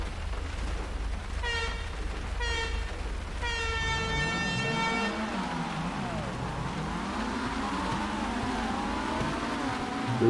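A car horn blares in a GTA drifting session, sounding as a few short honks and then a longer sustained blast, followed by engine and tyre noise that rises and falls as the car drives off.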